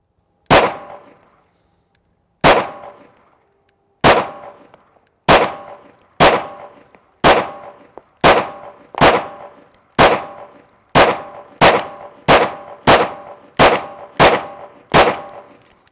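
Pistol shots from a TP9sa ringing off a steel target, fifteen sharp reports with metallic clangs, spaced widely at first and then coming in a quicker steady rhythm, loud and close with no talk.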